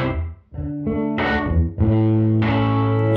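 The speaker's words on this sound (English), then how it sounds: "Room sound is what you'd expect." Sustained electric guitar chords ring out through a Fender reverb pedal's room setting, each strum blooming and lingering with a slightly distorted, washed tone.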